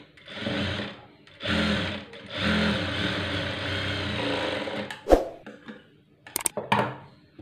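A sewing machine stitching a blouse runs in several bursts of fast, even whirring with short pauses between, then a few sharp clicks and taps near the end.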